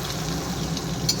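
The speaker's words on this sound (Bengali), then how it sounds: "এখন ডিমটা একটু ভেজে নিই ভালো করে" Eggs frying in hot oil with salt and a little turmeric, a steady close sizzle that crackles without a break through the short stretch.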